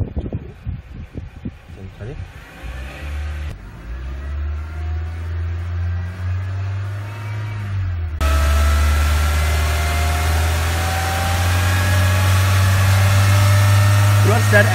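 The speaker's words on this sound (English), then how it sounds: "Keep engine speed to reach 3000." A car engine is held at raised speed, around 3000 rpm, for an alternator output test with a 6859U smart charger. It gives a steady, loud mid-range hum that steps up after about eight seconds, with faint clicks early on and no talk.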